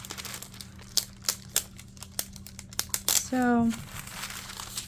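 Love Posh planner stickers peeled off their sheet in a single close crinkling, tearing pull lasting about a second, following scattered light taps and rustles of paper, with a voice speaking briefly beforehand.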